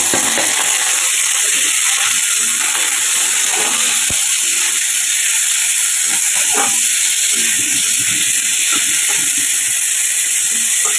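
Flattened rice sizzles in a pan with onion, ginger, chilli, cardamom and bay leaf, giving a constant, bright frying hiss with scattered soft crackles and small stirring knocks.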